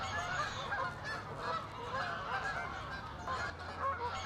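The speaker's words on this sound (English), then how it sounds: "The geese are going home to roost." A flock of geese honks continuously as they fly home to roost at dusk, many overlapping calls at a moderate distance with no voices.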